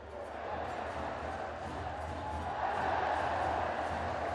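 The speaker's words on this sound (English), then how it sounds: "Crowd really enjoying this at the moment." Crowd noise in a football stadium during an AFC Champions League Two match between Nam Dinh FC and Ratchaburi FC, a steady broad roar that swells a little louder partway through, with no clear separate cheers.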